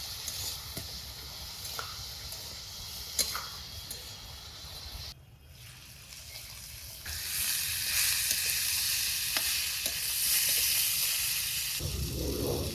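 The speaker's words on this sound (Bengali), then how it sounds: "সবকিছু মজানো সবজির উপরে দিলাম এখন নেড়ে চেড়ে মিশিয়ে দিই" A steady sizzle of cauliflower, flat beans and potato frying in a pan, with occasional scraping stirs; the hiss grows louder and fuller in the second half.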